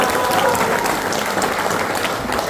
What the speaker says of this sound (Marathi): तुमच्या या वचनासाठी एकदा जोरदार टाळ्या.